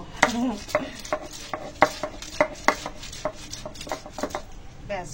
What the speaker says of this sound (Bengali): এখন এই রসুনটাকে থ্যাতো করে নেব, শুধু থ্যাতো।